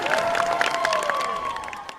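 Crowd clapping and cheering at a village cricket final, a lively burst of applause across the clip, with a sustained whistle-like tone and a faint voice over it.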